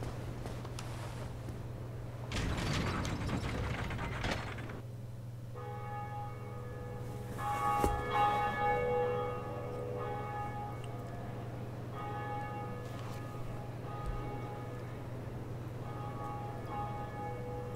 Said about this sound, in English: We rang the first Bell of Awakening.